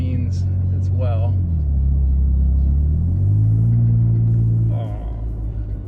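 A Toyota Tacoma truck with an Overland Tailor Tune pulls onto a freeway, its engine a steady low rumble heard from inside the cab, with the pitch rising and falling as it accelerates and a voice talking over it.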